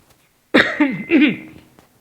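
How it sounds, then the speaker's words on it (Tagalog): Two harsh coughs in quick succession, close and loud, with a short quiet before and after. "Sorry, inuubo ako."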